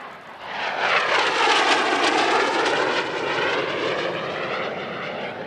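A display aircraft at the Radom airshow roars through its final solo pass, a loud, sustained engine rush that swells and sweeps with a shifting, phasing tone before easing slightly as it passes.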